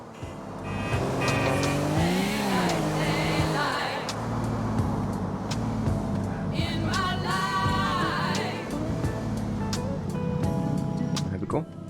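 A car in Grand Theft Auto IV revs and accelerates through shifting engine pitches, with tire noise and passing traffic, continuous and fairly loud beneath someone talking.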